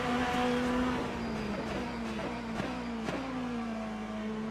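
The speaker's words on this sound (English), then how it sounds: "The sound of the engines is incredible" Race car engines roar and rev in Le Mans Ultimate at Barcelona, with a steady high drone from the lead car that dips and rises, and sharp gear-change blips as another car pulls back past.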